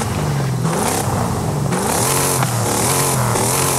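A car engine revs up and down repeatedly in Forza Horizon 5, loud and close, with a steady mechanical drone between the bursts of throttle.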